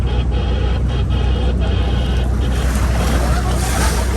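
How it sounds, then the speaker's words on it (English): Water waves splashing around an amphibious bus boat on a guided city-centre tour in Gothenburg: a steady, loud wash of water and engine rumble throughout, with occasional splashes. "Yes, they're giving us some waves, that's always nice."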